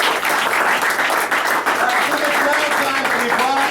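A bar crowd at a comedy show in an ale house gives a loud, full round of applause, dense clapping that carries steadily throughout, with faint voices mixed in.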